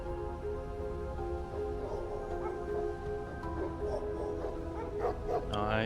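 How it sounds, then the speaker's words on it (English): Dogs or wolves barking as a sound effect in a tabletop role-playing game session, several yips and barks over a continuous tonal music bed, at moderate level with faint voices. "Those sound like dogs."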